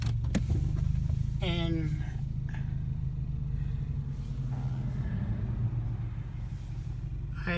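A car drives past a vacant lot where an apartment building once stood, its steady engine rumble and road noise filling the cabin throughout, with a person speaking over it.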